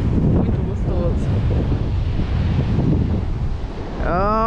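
Ocean surf and wind at a beach, a loud steady wash of breaking waves with heavy wind buffeting the microphone close up, a faint engine-like tone rising near the end.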